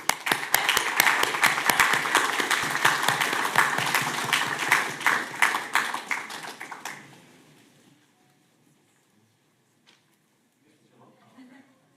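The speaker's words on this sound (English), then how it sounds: "So please join me in a round of applause for them" An audience at a Boynton Beach city commission meeting gives a round of applause, a loud burst of clapping for about seven seconds that fades out to near silence, followed by faint murmuring.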